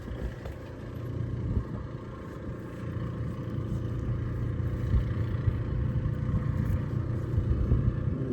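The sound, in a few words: generator running outdoors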